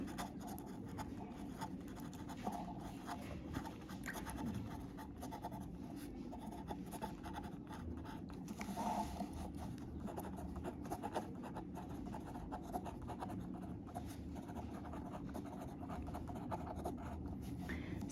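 Pen or pencil scratching on paper while working a geography time-calculation problem, a steady soft scraping that runs throughout at close range with no talk.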